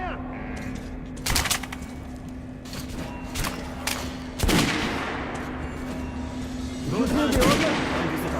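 Gunfire on a firing range in Metro: Last Light Redux, with several sharp bursts, one near 1.3 s, a heavier one around 4.5 s and another near 7 s, over a steady droning hum. No one speaks between the shots.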